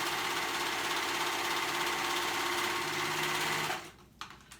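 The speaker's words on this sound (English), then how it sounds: "I'm just gonna go ahead and serge and just leave that little gap." A serger stitching along the edge of dress fabric for an A-line dress, running in a loud, steady mechanical buzz for nearly four seconds, then stopping abruptly and leaving a few faint clicks.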